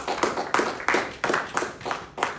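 Rhythmic clapping from a church congregation at a Spanish-language Pentecostal service, about seven loud, evenly spaced claps in steady time, with no talk over them.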